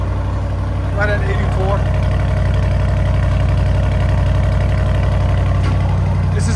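A 2026 Audi RSQ8 with a 4.0L twin-turbo V8 and deleted resonator idling after a cold start, producing a loud, steady low rumble throughout while people talk over it.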